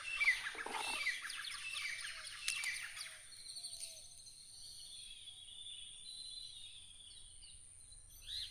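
Birds chirp in short bright bursts around nests in a coconut tree on a farm, a few near calls early on, then fainter repeated chirps over a steady insect hum.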